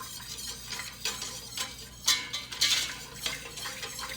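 Homemade eggnog ingredients are stirred in a bowl with a utensil, making soft repeated scraping and clinking strokes in a steady rhythm, fairly quiet and close, with no talking.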